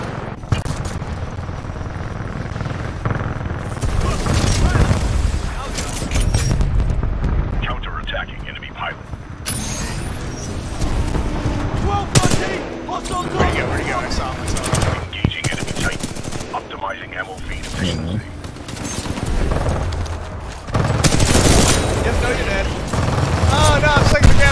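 Rapid gunfire in the shooter Titanfall 2 comes in loud automatic bursts separated by brief pauses, with intermittent speech mixed in among the shots.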